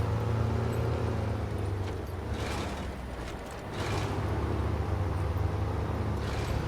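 Heavy truck engine in SnowRunner grinding through deep snow in Alaska, a steady low droning rumble with mechanical clatter, swelling and dipping briefly midway before settling back to a constant drone.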